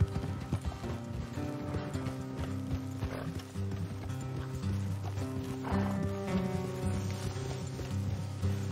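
Rhythmic clip-clop of trotting horse hooves in the video game Red Dead Redemption 2 continues over background music, with an occasional whinny; steady and moderately loud throughout.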